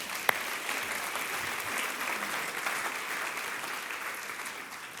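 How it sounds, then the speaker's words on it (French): A church congregation applauds steadily and evenly throughout, dense clapping filling the room with no pauses and one sharp brief knock near the start. "On peut applaudir le Seigneur."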